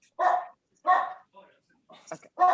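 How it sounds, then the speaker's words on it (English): A dog barks in short bursts, about four sharp barks spaced unevenly with gaps of silence, close and fairly loud. "Oh, sorry, I got a dog barking."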